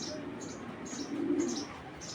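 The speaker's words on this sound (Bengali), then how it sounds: "লাল খাকি বারের একটা কবুতর" A red khaki barred pigeon with a black beak, a clipped-wing game bird, coos softly in a low, steady murmur that swells briefly midway, with faint higher chirps from other birds in the background.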